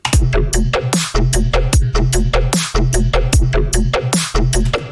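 A busy electronic dubstep drum pattern of sharp, punchy hits rides over a deep, throbbing sub bass, driving continuously without pause.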